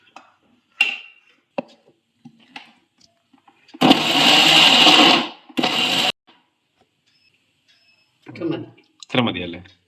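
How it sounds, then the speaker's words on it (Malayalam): A mixer grinder whirs loudly through cutlet mixture in two bursts, a long grind followed by a shorter one, with people talking before and after. "എന്നിട്ട് ഇതെല്ലാം കൂടെ ഇരുന്ന് മിക്സ് ഇട്ട് അരയ്ക്കുമല്ലോ ഇപ്പൊ?"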